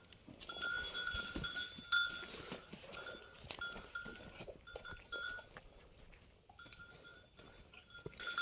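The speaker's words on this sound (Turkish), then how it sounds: "Bu arada keçileri de çekeyim dedim." Goats on a village farm in Turkey, with bleating and livestock sounds mixed with a cowbell-like clank, irregular and moderately close across the whole stretch, with no talk.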